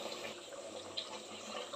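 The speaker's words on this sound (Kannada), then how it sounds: "ಇವಾಗ ನೀರು ಹಾಕ್ಕೊಳ್ಳೋಣ." Water runs steadily into a cooking pot for hotel-style chicken biryani, a faint, continuous splashing pour heard from close by, with no talking.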